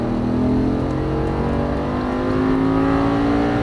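An Audi R8 accelerates hard on a race track at full throttle, its engine a loud, continuous drone with a tone that climbs steadily as it pulls, heard close up with no voices.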